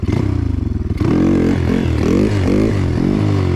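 A motorcycle engine revving hard while the rider shifts up through the gears during a wheelie. The engine pitch climbs and drops several times with each shift, loud and close, and no one speaks.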